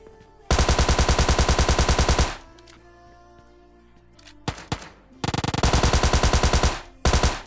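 Automatic gunfire in the shooter game PUBG Lite finishes off a downed enemy, with two loud, rapid bursts of rattling shots separated by a quieter pause of scattered clicks and footsteps.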